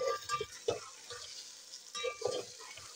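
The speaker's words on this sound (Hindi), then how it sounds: "इनको भी फ्राई कर लेती हूँ साथ साथ।" Boiled green peas are fried and stirred in a pan for aloo matar pulao, with soft sizzling and a few quiet scrapes and taps of a spoon against the pan at close range.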